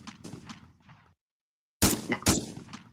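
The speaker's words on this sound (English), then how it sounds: "Terrible, terrible gunshot sound." Gunshot sound effect, a sudden loud broadband blast after a brief silence, followed by a second burst and a ragged tail, preceded by low muffled noise.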